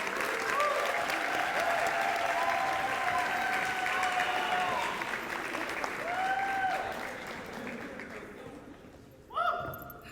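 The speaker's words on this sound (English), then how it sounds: "Let's keep that applause going as we welcome to the podium your newest road runner, Miss Alynna Rosas." Steady audience applause at a school event welcoming a student to the podium, a continuous clapping wash that slowly fades, with a brief voice near the end.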